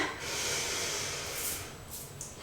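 Deep, steady breathing during an exercise cool-down after a boxing HIIT workout, with a long airy exhale close to the mic and softer breaths trailing off at the end.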